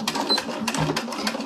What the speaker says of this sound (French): je décale l'aiguille à gauche pour venir coudre au plus près du passant